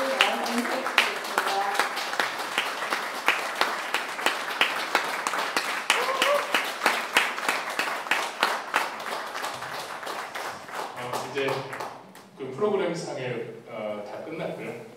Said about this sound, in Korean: 우리의 응원과 우리의 소망을 모아서 큰 박수를 환영할 때